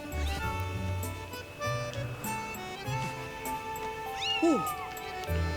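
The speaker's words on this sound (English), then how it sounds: "We just saved the weird cat, bear, koala, raccoon creature" A cat-like creature in the game Skyward Sword HD gives a couple of rising-and-falling meows over steady game music, with a voice talking quietly underneath.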